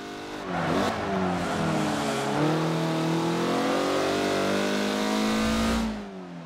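A race car engine in Forza revs hard and close, its pitch climbing and shifting through gears in a sustained loud whine before dropping away as it passes.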